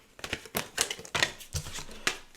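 Tarot cards are shuffled in quick, uneven papery riffles and taps, a handful of close crisp bursts with short gaps, no voice.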